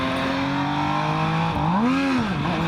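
An MV Agusta Brutale 800RR motorcycle engine revs and accelerates, a loud close whine rising, dipping, then climbing again in pitch as the throttle is worked.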